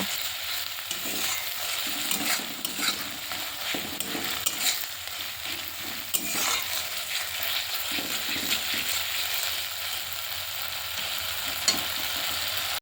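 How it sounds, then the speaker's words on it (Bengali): Ginger-garlic paste fries with onion in hot oil for a sea fish curry, giving a continuous close sizzle with regular stirring scrapes and no talking. "এবার আদা রসুনের পেস্টটা দিয়ে আমি এটাও ভালো করে কষিয়ে নেব"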